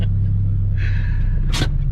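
Car power steering pump whining in a parking lot, a strained rising tone over steady engine idle rumble, ending with a short sharp hiss burst.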